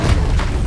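A Bombarda spell explosion goes off in a wizarding video game with dragons, a short, loud, low booming blast that rumbles throughout with a brief dull surge near the start.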